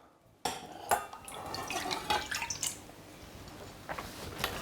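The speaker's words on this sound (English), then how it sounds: "pour it straight inside of your pan" Almond milk poured from a cup into a cooking pan, a sudden splashing pour with clinks and drips against the metal, continuing unevenly for several seconds.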